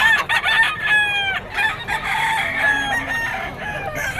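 A Henny Gray green-legged bull stag rooster crows loudly and close at a bird sale in Bocaue, Bulacan, giving a couple of drawn-out calls among clucking and other chicken sounds.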